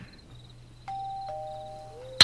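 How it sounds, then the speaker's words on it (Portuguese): Doorbell in the Minecraft video game, a couple of clean electronic chime tones stepping down in pitch over a low hum, ending in a sharp burst, with no voices. "Toquei a campainha."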